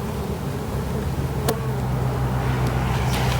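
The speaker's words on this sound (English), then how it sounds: "you could actually bring the smoker over here and smoke those bees towards the hive" Honey bees swarm and hum around an open hive during a hive inspection, a steady close buzzing drone with a few passing insects sweeping by.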